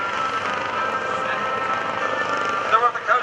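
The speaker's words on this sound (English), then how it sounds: "This air station operates more than 5 MH-65 or MH-65 Dolphin helicopters." A Coast Guard MH-65 Dolphin helicopter at an airshow search and rescue demonstration gives off a steady broadband rotor and engine roar, heard at a distance and continuous throughout.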